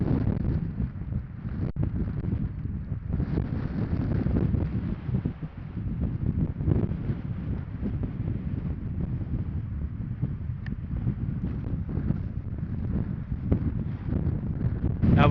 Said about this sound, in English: it is calmer today, but suddenly the wind's picked up